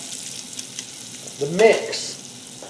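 Butter melting and sizzling in a cast iron pan, a soft steady sizzle that swells briefly when something is stirred in, with a person speaking a few words over it.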